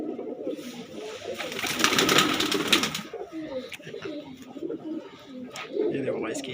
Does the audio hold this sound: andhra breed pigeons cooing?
yes